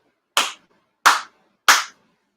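Three sharp, sincere hand claps at a Shinto-style memorial service, evenly spaced and crisp in a quiet room, each one ringing briefly before falling silent.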